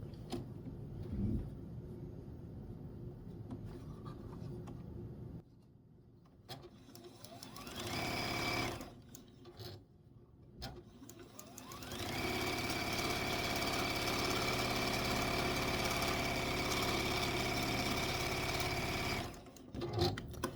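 A sewing machine stitches quilt blocks together in several bursts separated by pauses, and the final long run is steady and fairly loud at close range. The whirring mechanism has a faint knocking undertone.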